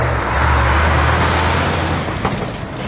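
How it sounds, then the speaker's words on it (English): A large, noisy tow truck rolls by on a city street at Geary Avenue and Dupont Street in Toronto on a summer evening, with a loud, steady low engine rumble that holds and then eases slightly as it passes, amid traffic noise. "a very noisy and large tow truck rolls by"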